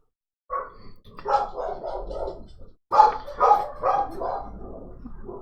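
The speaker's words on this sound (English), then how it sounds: "so the dogs are freaking out" Several dogs bark in excited, overlapping bursts inside a home, raising a commotion as someone steps outside; two clusters of loud yaps and barks with a short pause between them.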